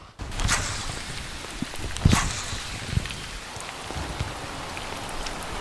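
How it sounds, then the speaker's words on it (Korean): Heavy rain pours down steadily on a rainy-season bass fishing outing, a dense hiss of drops hitting surfaces close by. A few louder knocks and shuffles break through the downpour. Nobody talks. "오 마이 갓 비 너무 많이 온데?"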